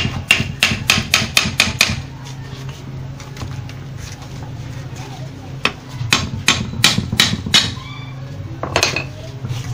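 Metal-on-metal hammering while the head of a deep well motor is opened during repair, with a rapid burst of ringing blows, then scattered knocks and a second cluster of strikes over a steady low background hum.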